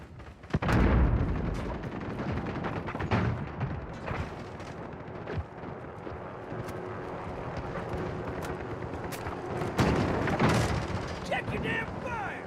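Cruise missile strike in the video game Modern Warfare (2019): heavy booming explosions, a loud blast near the start and another around ten seconds, with rumbling impacts and battlefield noise between and voices talking in places.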